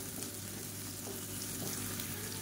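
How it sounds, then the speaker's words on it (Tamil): Steady oil sizzle of onions and vegetables frying in a pan, continuous and close, with faint stirring scrapes and no voices. "அந்த காய்கறி எண்ணெயில் வந்து நல்லா வறுத்துக்கலாம்."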